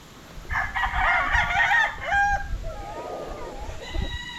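A claret gamefowl rooster crows loudly and nearby, followed by softer clucking and a second short call at the end, with no talk.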